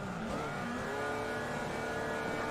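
Race car in a RaceRoom or iRacing video game with a manual gearbox, engine roaring steadily at high revs in first gear while launching, a sustained loud drone with no talk.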